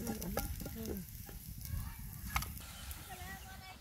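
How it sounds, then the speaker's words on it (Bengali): Cabbage pakora frying in hot oil in a village kitchen on a winter afternoon, a soft steady sizzle with scraping stirs and chickens clucking nearby, quiet and close. "আরেক ব্যাচ ভাজা হইতেছে।"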